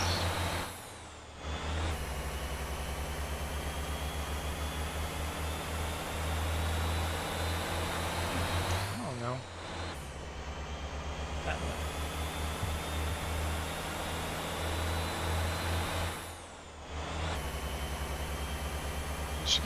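Truck engine in the video game Motortown, hauling steel, revving up, downshifting and upshifting, with brief drops in engine drone between gears and an air-brake hiss, steady and close throughout.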